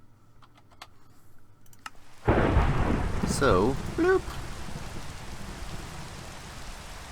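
A sudden crash of thunder breaks in and rolls into steady heavy rain during a storm in a block-building game, with a voice speaking briefly beforehand and faint clicks underneath.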